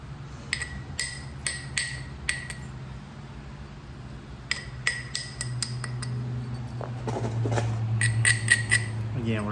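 Coral stone being flaked into a triangular arrowhead, sharp clicking strikes in short bursts of several taps, fairly close, with quiet pauses between and a low hum underneath.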